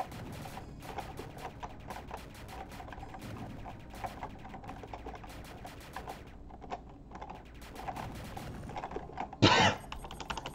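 Rapid enemy gunfire in an indie video game: dense streams of quick, sharp, clicky shots continue throughout, ending in a brief louder burst.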